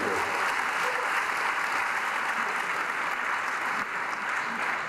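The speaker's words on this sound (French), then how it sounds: "Tu peux l'acclamer très fort" Congregation at a Sunday Methodist church service in Côte d'Ivoire breaking into loud, sustained applause and cheering, a dense continuous wash of clapping from many hands that holds steady throughout.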